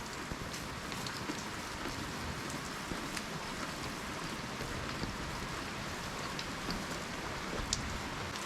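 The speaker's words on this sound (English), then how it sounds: "It's raining so much right now." Heavy rain falls on a barn, a dense, constant patter with scattered louder drops that fills the whole stretch. No voices are heard.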